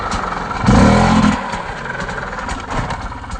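A dirt bike engine revs hard and close as the clutch is slipped out for a log hop, a loud throaty burst of throttle that settles back to a rough, clattering idle.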